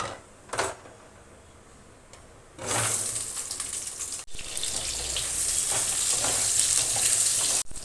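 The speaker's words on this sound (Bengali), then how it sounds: "আলুটা এবার লাল লাল করে ভেজে নেব" Potatoes frying in mustard oil with cumin, bay leaf and dried chilli for a potato and pointed gourd curry, a steady loud sizzle surging in after a quiet start, with a brief clatter partway through.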